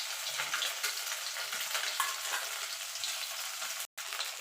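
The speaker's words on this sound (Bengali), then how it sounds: "দেখুন বন্ধু, ডিমগুলো ভাজা হয়ে গেছে, ডিমগুলো তুলে নেব।" Eggs fry in oil for a spicy Bengali egg curry, making a steady, moderate crackling sizzle with a brief dropout near the end and no talking.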